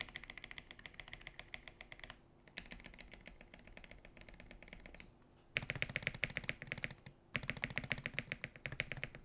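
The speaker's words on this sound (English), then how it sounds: "One last typing test." Rapid, clacky keystrokes on a gasket-mount polycarbonate MW75 mechanical keyboard come in steady bursts with short pauses, close up, getting louder in the later stretch.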